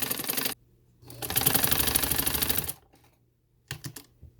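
A sewing machine runs close by, stitching pintucks around a neck design in a short burst and then a longer steady run, followed by a few brief stuttering stitches.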